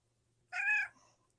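A single clear cat meow, close and fairly loud, rising and falling over about half a second with a soft tail. A low background hum sits underneath, and there is no talk.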